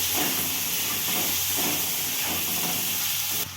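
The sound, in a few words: frying potatoes with turmeric powder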